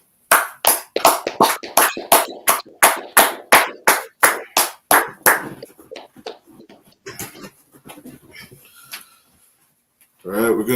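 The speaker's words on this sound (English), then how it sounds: "let's clap it up" A group claps together at the close of a Tuesday night brotherhood class: about fifteen loud, evenly spaced claps that gradually thin out, followed by someone speaking.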